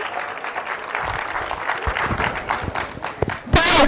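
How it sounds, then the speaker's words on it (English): Audience applause at a literature festival session, a dense wash of clapping with some crowd murmur throughout, ending in a brief louder burst. "If I'm going to get an applause even for this, nice start."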